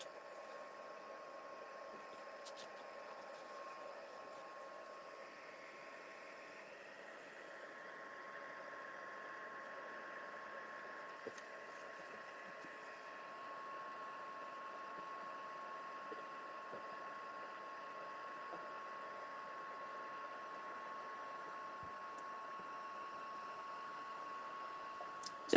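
A heat tool blows a steady, quiet whirring hiss while heating an embossed card background for floral leaves, continuous and close with no talk.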